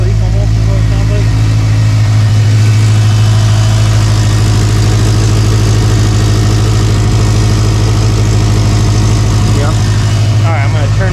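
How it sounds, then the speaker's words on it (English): Big-turbo Subaru Legacy engine idling loudly and steadily on first start, a deep constant rumble with a ticking, puffing edge from a possible exhaust leak, a voice briefly audible over it. "I hear an exhaust leak almost is what it sounds like."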